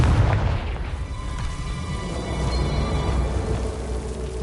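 A Confringo fire spell explodes in the video game Hogwarts Legacy, a deep booming blast that rolls into a sustained low rumble.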